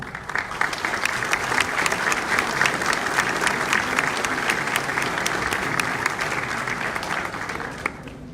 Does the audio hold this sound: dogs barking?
no